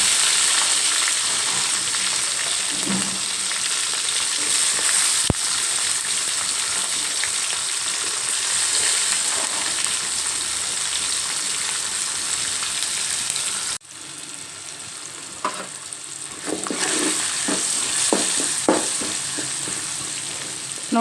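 Garlic fries in oil with curry leaves for a cabbage palya, a continuous bright sizzle with occasional stirring scrapes, briefly dropping after a sharp knock before the frying and clinks resume.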